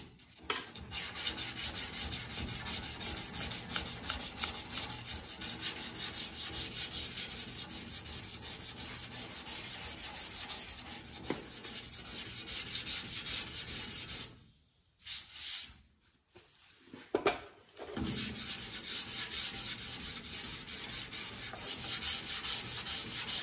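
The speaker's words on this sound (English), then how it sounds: "Now we'll get a soft block and block around the corner on this thing." A soft sanding block rubs steadily back and forth around the corner of a panel to find dents. The close, continuous abrasive swishing drops out briefly midway, then resumes.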